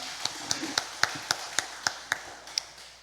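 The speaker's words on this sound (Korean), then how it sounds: "격려의 박수하겠습니다" A church congregation claps in encouragement for a praise team, giving an evenly paced series of about a dozen crisp claps in a steady rhythm close by, with a soft murmur of room noise beneath.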